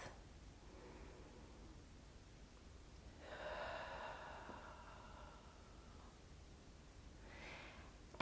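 Deep breathing during a yoga sun salutation session, a slow, soft, airy inhale and exhale close to the mic in a quiet room.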